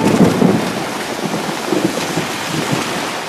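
Heavy rain pours during an evening thunderstorm in Thoothukudi, Tamil Nadu, a dense, steady roar with low rumbling and gusty wind buffeting the microphone throughout.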